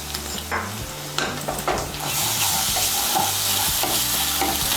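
A spoon stirs and scrapes ginger, garlic and green chilli paste frying in a pan, with a steady hiss of sizzling oil that grows louder and brighter partway through, punctuated by a few sharp scrapes and knocks against the metal.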